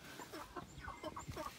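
Chickens cluck and murmur in a series of short, rhythmic calls over a steady background, at moderate distance and fairly quiet, with no talking.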